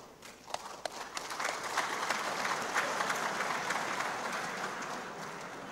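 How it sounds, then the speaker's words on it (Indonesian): Applause from an audience at a political speech to a national working meeting, building from scattered claps into steady, moderately loud clapping that continues to the end. "Tepuk tangan meneh."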